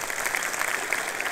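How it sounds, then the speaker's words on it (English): Brief burst of audience applause at a college convocation and commencement ceremony, a steady dense patter of clapping lasting only a moment. "Can you give them applause, please"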